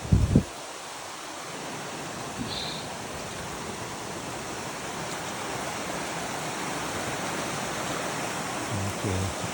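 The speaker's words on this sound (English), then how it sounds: "Coming down to the creek." A creek runs along the Appalachian Trail, its water making a steady, even rush that fills the whole clip with no voices over it.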